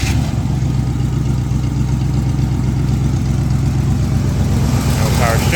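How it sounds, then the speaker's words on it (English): A Squarebody Chevy truck engine runs at a steady idle after a fresh steering box install, a loud, constant low rumble filling the whole stretch with no clear start. "Coleman, go ahead and start her up."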